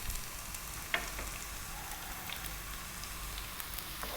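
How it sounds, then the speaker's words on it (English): Chopped garlic sizzles steadily in hot sunflower oil over fairly high heat, a dense continuous frying hiss with a small clink near the start, close and without talk. "I'm going to drop in 2 tablespoons of chopped garlic."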